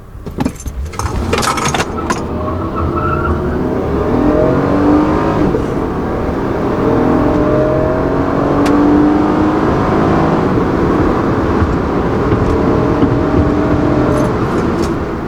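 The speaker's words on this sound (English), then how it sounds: "there was a lot of wheel spin on that one, like a lot" A V6 Honda Accord launches hard off the line with heavy wheel spin, a loud sustained engine roar with rising whine building steadily and holding near and strong throughout, after a brief clatter at the start.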